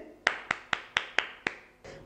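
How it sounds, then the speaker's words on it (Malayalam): Hands clap sharply in a slow, steady sequence of about six or seven separate claps, close and fairly loud, with a fainter final clap trailing off, as students applaud during a basic science class. "എല്ലാവരും ഒന്ന് കൈയടിച്ച്"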